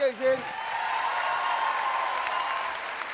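Applause from a studio audience at a Turkish TV talk show swells into a steady wash of clapping that holds for several seconds, following a short burst of a voice at the start.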